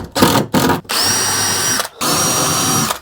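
Cordless drill driving screws into a wall of a small barn workshop, close and loud: a few short bursts, then two sustained whirring runs, each rising to a steady pitch before stopping.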